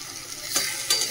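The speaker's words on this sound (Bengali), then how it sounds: "চলো আলুটা দিয়েও মশলাটা ভালো করে একটু কষিয়ে নিলাম" Potatoes stirred into a frying spice paste in a pan, a soft continuous sizzle with two brief scraping stirs, close by and without talk.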